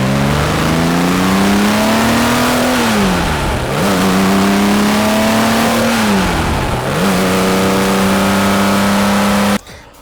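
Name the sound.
Singer Porsche engine revving with velocity tubes and titanium exhausts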